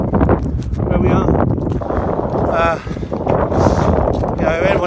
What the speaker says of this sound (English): It's very windy where we are.